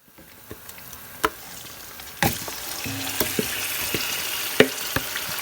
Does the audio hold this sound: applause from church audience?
no